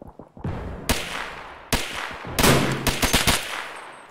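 Gunfire in Escape From Tarkov: several sharp, loud shots, with one burst near the start, another around the middle and a rapid cluster of cracks toward the end, ringing out over ambient game noise.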